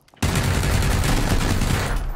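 Rapid automatic gunfire bursts out abruptly and continues loud and dense for about two seconds in a shooting video game.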